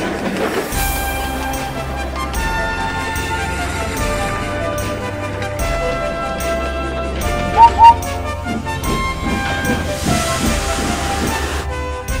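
A train rumbles steadily along the rails with a continuous mechanical hum and hiss, the rolling noise loud and unbroken throughout.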